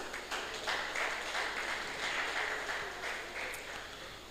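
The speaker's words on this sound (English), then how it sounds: "Please, let's get a round of applause" Applause from attendees at an alumni annual general meeting, soft and fairly distant, forming a steady wash of many hands clapping throughout.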